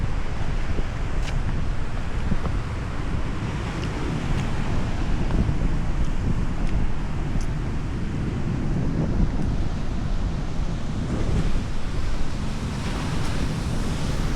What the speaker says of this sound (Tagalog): Takas ng alon.